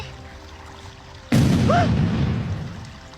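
A sudden single explosion bursts out of a quiet background, a loud boom with a crackling tail that fades slowly over the following two seconds.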